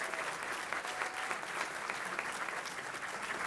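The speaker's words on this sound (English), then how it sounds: "Let's please give a big round of applause for our Lemonade Day participants." Steady applause from an audience at a community celebration in Lakewood honoring Lemonade Day participants, even and sustained clapping at moderate distance with no speech over it.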